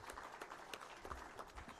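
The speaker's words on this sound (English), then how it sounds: "join me in appreciating Dr. Donald Kaberuka with another round of applause" Audience at a memorial lecture honoring Prof. Emmanuel Tumusiime Mutebile gives a round of applause, moderately quiet and somewhat distant, with scattered individual claps in an uneven rhythm and faint room noise beneath.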